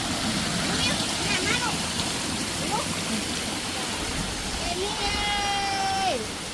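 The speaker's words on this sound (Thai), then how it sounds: "น้ำตกน้ำตก" Constant rushing roar of a waterfall fills the scene, close and steady, while people speak faintly over it and a high voice rises near the end.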